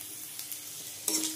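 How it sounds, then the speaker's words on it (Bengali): Crushed ginger and garlic hit a pan of fried onions with a soft, brief sizzle that flares louder near the end of the short stretch. "এবার আদা রসুন থেতো করা দিয়ে দিচ্ছি"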